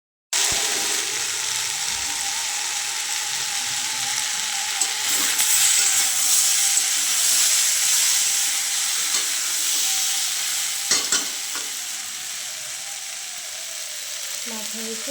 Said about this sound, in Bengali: প্রায় ভাজা হয়ে এসছে সবজিটা,